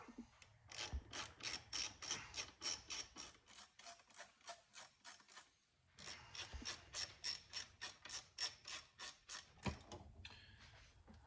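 Ratchet wrench clicking rapidly while tightening bolts on the brake cover of a 1982 Honda Big Red 200 ATV, two long bursts of fast even ratcheting close up with a short pause between, no talk.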